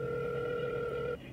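A telephone ringback tone sounds while placing a call, a steady electronic tone that holds for about a second before cutting off, heard over a low hum with no talking.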